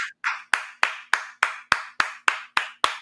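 A single person claps hands alone in a slow, even rhythm, about eleven crisp, close claps evenly spaced with short silent gaps between them, during a live talk show.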